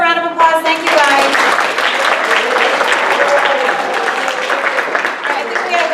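An audience at a high school Earth Week event claps and applauds steadily for several seconds, a dense, loud wash of hands with a few brief voices mixed in.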